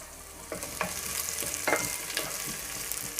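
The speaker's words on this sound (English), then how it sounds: "we are going to add our cucumber and stir." Cucumber and golden-browned onions stirred in a frying pan, a steady soft sizzle broken by several brief scraping clicks of the utensil, close by with no talking.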